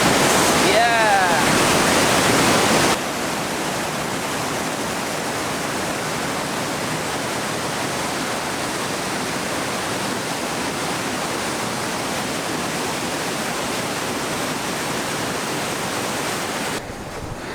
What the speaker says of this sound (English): Here is the waterfall of Umru.